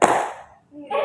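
One sharp hand clap opens a children's mosquito-clapping game and fades quickly into near silence, followed by a faint voice starting up.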